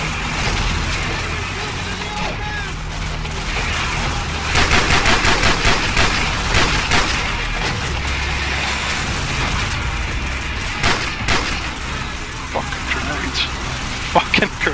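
Automatic machine gun fire from Call of Duty 4: Modern Warfare rattles in dense bursts, louder in the middle, over continuous battlefield noise with a voice speaking now and then.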